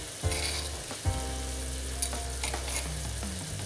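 Chicken frying in a hot pan as cumin powder, sweet corn, garlic and chili paste go in, with a steady close sizzle and a couple of sharp bursts as ingredients hit the oil and are stirred.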